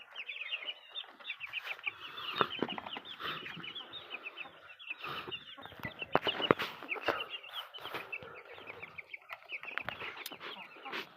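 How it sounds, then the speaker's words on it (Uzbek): Chickens and small chicks cluck and cheep near the ground outdoors, a busy run of soft clucks with scattered high peeps, with no voices. "Mana jo'jalar oyoq tagida."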